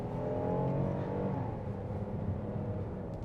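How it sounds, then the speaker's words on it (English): The 2021 Kia Telluride SX V6 engine accelerates with a steady, moderately loud rumbling drone heard from inside the vehicle, holding fairly even throughout. "nice sound when you hit that accelerator pedal"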